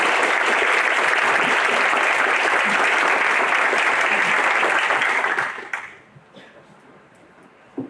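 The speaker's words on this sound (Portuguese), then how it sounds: "pedir uma salva de palmas para os nossos debatedores" A crowd applauds debaters at a public debate on tuition fees at public universities, a dense, steady clapping that stays loud for about five seconds, then quickly fades to a quiet room with a few stray claps.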